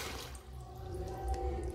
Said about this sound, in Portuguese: Eu coloquei água.